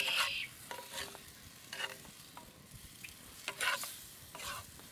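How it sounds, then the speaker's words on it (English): Trout coubion with chicken stock sautéing in a pot over an overly hot campfire, with repeated scraping stirs and soft bubbling through a steady outdoor background. "Add the chicken stock to it, cook it down some more. Let everything kind of saute."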